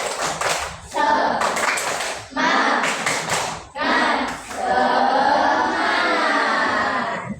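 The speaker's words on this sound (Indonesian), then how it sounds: "Coba tepuk semangat" A school class claps a rhythmic cheer in a quick pattern, bursts of clapping separated by short pauses, with voices chanting along in places.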